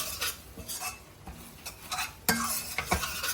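Rajma curry is stirred in a pot after coriander goes in, a ladle scraping and knocking against the metal in uneven strokes over a low bubbling sizzle.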